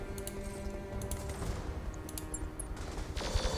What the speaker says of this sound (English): I think I actually want to shoot lasers here.